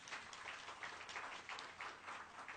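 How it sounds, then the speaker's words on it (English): Audience applause at a live music show in Redmond, a steady wash of clapping from a modest crowd lasting a few seconds, fairly distant and faint. "How about another round of applause, man?"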